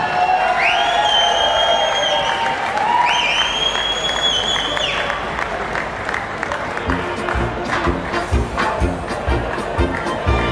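A crowd at an outdoor prize ceremony bursts into loud applause and cheering, with whoops and shouts on top. Whistle-like calls come early, and rhythmic clapping grows toward the end.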